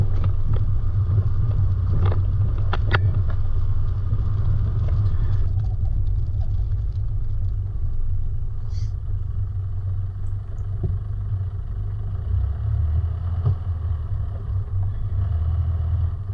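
A vehicle creeps along a twisting, overgrown bush track, its engine a steady low rumble throughout, with occasional scrapes and knocks from brush and bumps.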